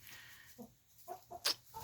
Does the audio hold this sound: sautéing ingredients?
no